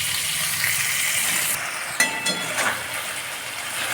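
Vegetables for a Bengali nine-vegetable navratan sabji sizzle loudly in a frying pan, a close, continuous hiss broken midway by a sharp clink and scraping as the mix is stirred.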